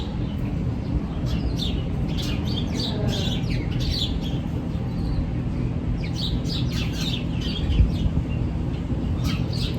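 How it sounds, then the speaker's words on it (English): Birds chirp and call repeatedly outdoors over a steady low mechanical hum, the song moderately faint and scattered throughout. "Can you hear the birds? Listen to those birds."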